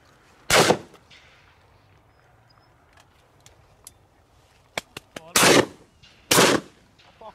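Shotgun fired while duck hunting: three loud, sharp blasts, one early and two close together near the end, with faint clicks and rustles of handling between them outdoors.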